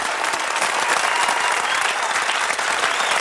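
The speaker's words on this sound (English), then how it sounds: "give me a round of applause" Steady, dense audience applause at an interview event, a continuous wash of many hands clapping at even loudness throughout.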